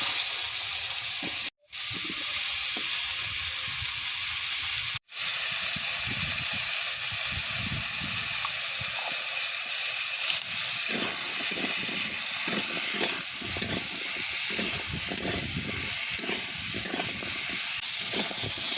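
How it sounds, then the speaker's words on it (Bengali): Bottle gourd pieces with turmeric fry in oil with a steady, loud hiss and sizzle that runs throughout, broken by two brief dropouts near the start. "লাউগুলো হালকা করে হলুদ দিয়ে ভেজে নেব।"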